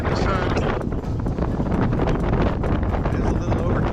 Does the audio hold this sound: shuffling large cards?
no